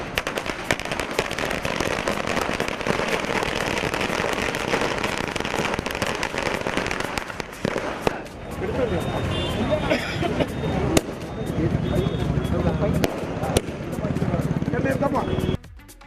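Strings of firecrackers burst outdoors at a political party celebration in Mullamparappu near Erode, a dense continuous crackling that thins into scattered pops, with crowd voices and talk mixed underneath.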